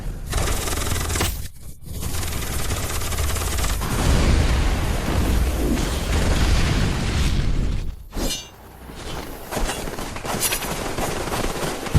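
Sustained heavy gunfire in a battle against summoned underground creatures, dense loud bursts and volleys filling the whole stretch with only brief drops between salvos.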